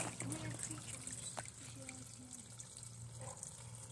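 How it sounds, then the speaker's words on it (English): A garden pond waterfall trickles softly in the background, a faint steady splashing under a low hum, with a voice speaking over it. "But this is the waterfall."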